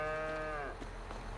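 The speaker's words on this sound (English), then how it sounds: "Look at them hungry cows." Cattle mooing in the farming game Farming Simulator 22, a single long drawn-out moo with a falling tone, fairly close, followed by quiet game ambience.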